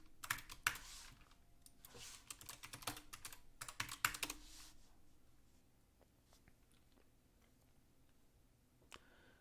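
Fast clattering keystrokes on a computer keyboard as a password is entered, heavy typing for a few seconds, then fading to a few sparse, faint taps in a quiet room.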